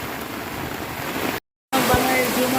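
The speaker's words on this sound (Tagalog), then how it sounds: "At ang lakas pa rin talaga ng ulan." Heavy rain pours and water rushes on a farm during a storm, a steady, dense hissing roar that cuts out briefly, then returns just as strong.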